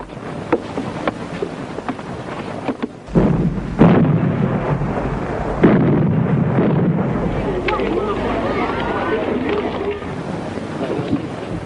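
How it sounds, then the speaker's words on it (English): A high-yield nuclear weapon explosion in archive civil defence film, a sudden deep roaring blast that swells into a long, sustained rumble with a second surge partway through. "the situation after the explosion of a high-yield nuclear weapon"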